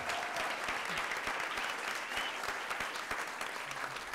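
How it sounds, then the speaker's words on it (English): Steady applause from an audience fills the whole stretch, dense and even, with a faint voice or two beneath the clapping. "Can we get a round of applause for that?"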